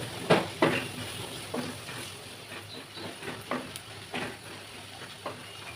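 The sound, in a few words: chopped onions frying and being stirred in a pan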